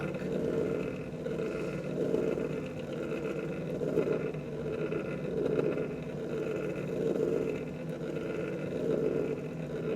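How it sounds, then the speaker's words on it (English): A motor in some electrical system runs steadily, a continuous mid-range drone that swells and eases slightly in loudness over time, close and fairly loud with no talking. "Now, as you can see, the motor start to come back."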